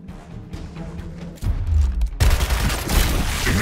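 Gunfire in the turn-based game Gears Tactics: quieter crackling shots at first, then heavy booming blasts and sustained loud rattling fire filling the second half.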